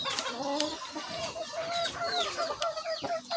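Big fighter chickens clucking and calling close by, a busy overlapping run of short clucks and squawks with a few sharper calls.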